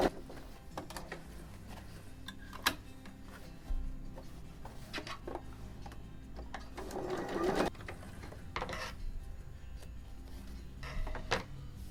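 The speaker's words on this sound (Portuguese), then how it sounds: "Eu já costurei, agora eu vou fazer um pesponto." A sewing machine topstitches fabric for a cloth toiletry bag, a soft steady mechanical whir with intermittent clicks and knocks, close and fairly quiet.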